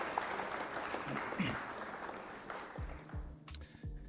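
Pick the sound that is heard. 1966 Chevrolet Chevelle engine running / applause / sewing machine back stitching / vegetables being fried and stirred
applause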